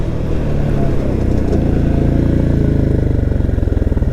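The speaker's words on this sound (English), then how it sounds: "It's a legit ATV with a legit engine." A 2023 Can-Am Outlander 700 XT ATV engine revs up close and loud, its throaty mid-range note climbing and then settling into a fast, rhythmic pulsing idle.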